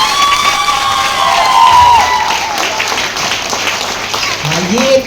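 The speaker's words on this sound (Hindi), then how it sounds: "एक बार मैम के लिए तालियां हो जाए।" A crowd at a health and wellness product event claps and cheers loudly, with whoops and children's shouts riding over dense applause and a voice briefly cutting in near the end.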